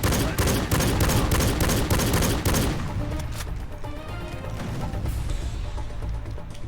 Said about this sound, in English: Also, look, this is the pistol.